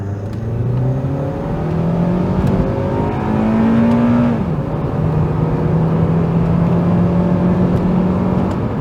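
A stock automatic Honda Accord Type S and a MK4 VW Golf GTi accelerate hard in a rolling race, engine drone rising steadily through the gears with one shift midway, loud and close, heard from inside a car.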